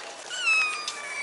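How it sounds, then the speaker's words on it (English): A tiny cat on a street in Morocco lets out a short, thin meow, rising and wavering over about a second, close by and fairly clear against quiet background noise. "Oh my gosh, look at that cat."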